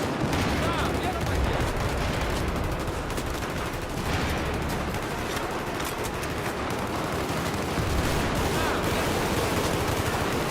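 Light machine gun fire in a Battlefield match forms a dense, continuous wash of rapid shots and battle noise, loud and unbroken from start to finish.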